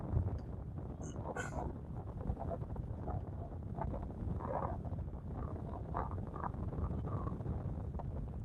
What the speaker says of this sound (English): I'll be glad when this wind settles down